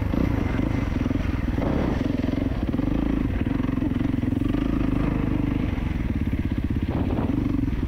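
A 2024 Kawasaki KX450 dirt bike on an easy break-in ride, its engine burbling and rattling steadily throughout with small throttle swells, close and loud with no voices.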